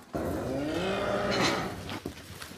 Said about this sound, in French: Dans la ferme, il y a aussi 15 vaches à viande.